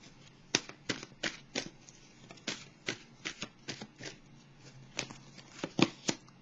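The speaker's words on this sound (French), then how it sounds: "je vais piger une carte pour le signe du poisson, signe d'eau, une carte de l'oracle de l'âme intuitive" Oracle cards from an intuitive-soul oracle deck riffled and shuffled in quick papery bursts, a dozen or so close, crisp flicks in an irregular rhythm with a brief pause before a card is drawn, no talking.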